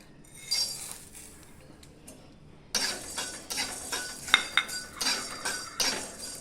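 Whole spices including black pepper, mace and cardamom dry-roast in a pan without oil, a quiet start giving way to brisk rattling and scraping with bright clinks of a utensil, close up and unaccompanied by speech.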